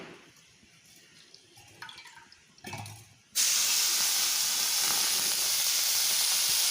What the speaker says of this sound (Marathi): सगळ्या शिरा धुवायला ठेवल्यात मी ह्या धुवून घेते